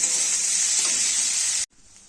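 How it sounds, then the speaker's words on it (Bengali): Egg frying with salt and turmeric in a hot wok of fried potatoes, a loud close sizzle and hiss that cuts off abruptly and then continues more faintly. "নুন হলুদ দিয়ে এটাকে আমি ভেজে নেব"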